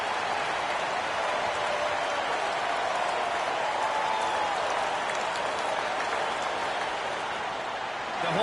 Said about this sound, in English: The home fans cheering for MP